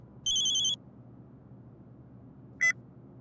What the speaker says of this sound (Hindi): हमारी धर्मपत्नी राधा रानी का फोन है, उठा लें।